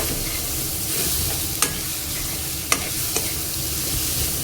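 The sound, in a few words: sautéing coarse dry Bombay duck chutney paste in a pan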